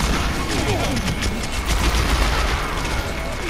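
Dense, continuous gunfire from the Overwatch video game, rapid bursts and booms packed together at steady loudness for several seconds, with a voice talking underneath.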